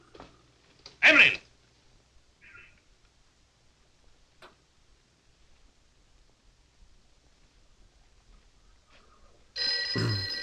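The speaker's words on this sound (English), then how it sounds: "Which phone is it this time?" A telephone bell in a film scene starts ringing loudly near the end after a mostly quiet stretch with a sharp thump and a few faint, scattered sounds.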